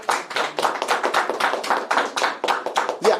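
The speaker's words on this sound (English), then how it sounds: "you guys can give yourselves a round of applause for attending this event" An audience at a branding seminar claps, giving a dense run of distinct, sharp hand claps that hold steady for a few seconds before stopping, with no talking.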